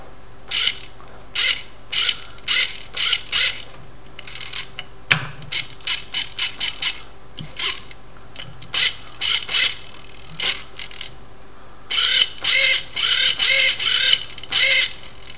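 A small hobby servo motor turned by hand with a potentiometer on a controller board, making repeated short bursts of whirring, gear-grinding buzz in quick rhythmic runs, close and clear with brief pauses between.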